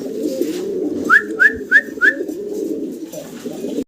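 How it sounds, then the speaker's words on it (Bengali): A single red Lahori pigeon coos four times in quick succession, close and clear, over a steady low background hum. "সিঙ্গেল এক পিস রেড কালারের ভিতরে আমরা লাহোরি কবুতর দেখাচ্ছি"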